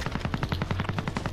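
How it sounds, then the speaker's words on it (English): Rapid bursts of automatic gunfire, a fast regular rattle of shots close up and loud, continuous with no talking. "I heard gunshots ahead of me right here."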